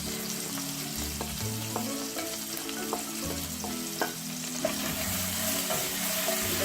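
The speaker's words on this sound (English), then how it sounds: "I'm going to fry the ginger and garlic." Onions with ginger and garlic paste frying in a pan, a continuous close sizzle broken by occasional clicks and scrapes of stirring, under a low background hum.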